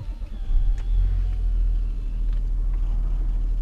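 A 2016 Audi A6 Avant 3.0 BiTDI Black Edition diesel starts with keyless ignition, a deep loud rumble rising quickly then settling into a steady close idle, with no talking.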